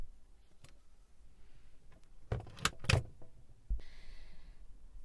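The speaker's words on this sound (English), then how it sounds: "I can just open this door now and I've got them nice and easy to reach" A cupboard door in a Mazda Bongo camper van is opened by hand, giving a cluster of close clicks and a short rattle, then a softer knock and brief rustle, all in a quiet interior with no voices.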